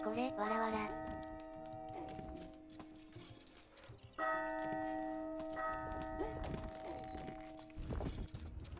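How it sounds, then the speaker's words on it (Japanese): Church bells ring repeatedly in the medieval castle-building game Stronghold, sustained tolling tones that swell and fade, with players talking over them. "違うとこの教会も鳴らしてみたら。"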